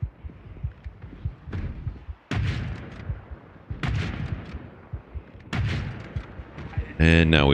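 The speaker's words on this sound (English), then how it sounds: "We're gonna have to shoot our way out." Gunfire in Project Zomboid: three loud, sharp shots spaced more than a second apart, each with a booming tail over a quieter rumbling background, ending in a bright, buzzing burst.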